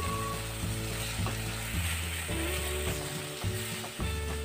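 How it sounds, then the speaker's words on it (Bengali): Dry Bombay duck fish fries in a pan with a steady, close sizzle, joined by a rhythmic mechanical whir and clicking that repeats throughout. "আমি ভালো করে একটুখানি ভাজা ভাজা করে নিচ্ছি"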